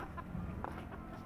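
Chickens cluck near a coop at a deer park in Sekupang, Batam: a short, faint run of soft clucks over outdoor background noise, with no talking.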